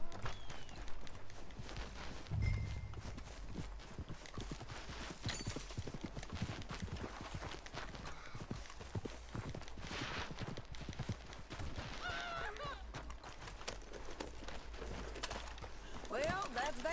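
Horse hooves clip-clopping in the video game Red Dead Redemption 2, a steady rhythmic trot with an occasional snort or neigh, running under game dialogue and background ambience.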